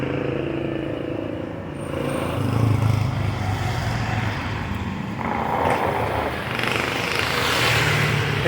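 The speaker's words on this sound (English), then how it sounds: "these motorbikes just weaving in and out between the cars" Motorbike engines buzz and rev, weaving through busy, congested street traffic in the Philippines, passing close by amid a steady rumble of cars.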